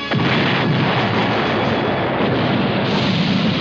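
A loud, sustained roar of explosive blasts and rapid gunfire from a grenade explosion and Uzi fire in an action film, dense and continuous, with no talking.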